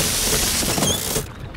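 Cartoon wrench cranking on a stuck pipe, a loud, continuous mechanical ratcheting and grinding lasting about a second before cutting off.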